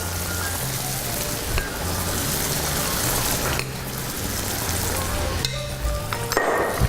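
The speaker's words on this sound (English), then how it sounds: "I want to fry my flour" Flour fries in a hot pan with a steady, loud sizzle and crackle, broken now and then by the scrape and clatter of stirring.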